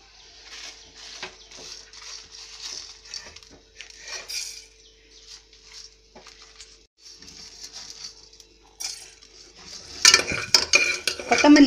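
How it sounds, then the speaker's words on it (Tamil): Coriander seeds roast in a pan for Vangi Bhath, a dry rattle and patter of seeds under repeated scraping of a utensil, close, then louder, busier stirring near the end. "கொத்தமல்லி வர நல்லா வறுத்தாட்டு"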